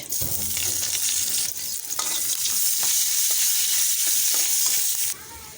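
Bay leaf and onion hit hot oil in a pan, producing a loud, dense, continuous sizzle with stirring scrapes throughout before the frying noise abruptly drops near the end.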